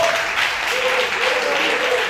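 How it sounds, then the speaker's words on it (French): Audience at a season 4 semi-final results show applauding the candidates, dense continuous clapping at full level with a voice talking over it. "on applaudit encore et encore les candidats"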